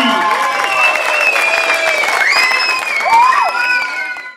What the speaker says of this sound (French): encore des applaudissements de la part de Saint-André